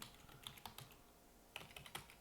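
Quiet clicking of a computer keyboard, a short burst of keystrokes, a pause, then another quick burst, heard up close with no talking.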